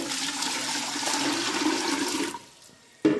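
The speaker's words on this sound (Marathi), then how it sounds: "या डब्यामध्ये पाणी टाकू" Water gushes into a container in a steady, loud rush for about two seconds, tapers off, then a short final splash follows.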